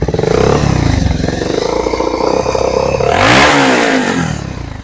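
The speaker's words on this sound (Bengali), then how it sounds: "ইঞ্জিনের যে আওয়াজ শোনাবো।" A used motorcycle engine runs loud and close at a used bike showroom, idling with a throbbing clatter before a sharp rev climbs in pitch and then settles back.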